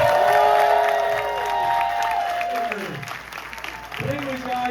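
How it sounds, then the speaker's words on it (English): A movie theater audience at a film premiere claps and cheers for Mr. James Yaw, with sustained applause, whoops and voices calling out across the room. "let's go ahead and give him a round of applause"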